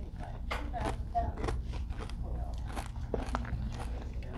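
Hummus and falafel being eaten up close, with soft crunching bites and chewing repeating in an irregular rhythm under quiet background murmur.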